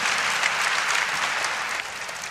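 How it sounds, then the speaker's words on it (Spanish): A church congregation gives a round of applause, steady dense clapping that eases off slightly in the final moments. "Denle un aplauso a mis hermanos"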